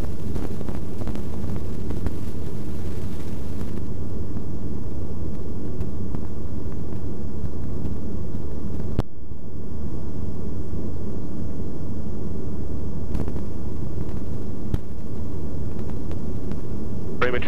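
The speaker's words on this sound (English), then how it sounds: "We'll do a low approach, make sure the engine's good." Small airplane engine droning from inside the cockpit during a low approach, a loud, steady low-pitched hum with wind rush that continues unbroken throughout.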